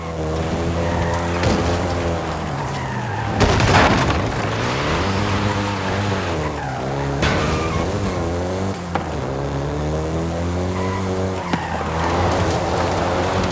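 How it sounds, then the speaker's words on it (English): Volkswagen Golf GTI racing in Forza Horizon 5, its engine droning steadily with rising and falling revs as the tires skid and squeal through corners, loud and continuous throughout with no talk. "including the Golf GTI you're driving right now"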